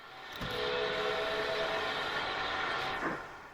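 In a railway simulation game, a train on a York line extension rolls past with a steady, smooth rumble that swells in, holds for a few seconds, and fades away.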